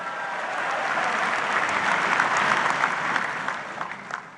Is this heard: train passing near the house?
no